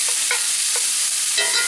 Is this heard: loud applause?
no